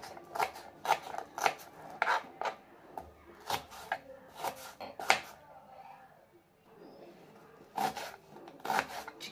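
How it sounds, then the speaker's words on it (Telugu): Knife chopping onions into small pieces for an Andhra-style chicken fry piece pulao: close, crisp cuts against a board in irregular bursts of quick strokes, with brief pauses between runs. "ఆనియన్స్ని ఎందుకు చిన్న చిన్నగా కట్ చేసుకుంటానంటే కొంచెం థిక్గా గ్రేవీ వస్తుందని చెప్పి కట్ చేసుకుంటున్నాను"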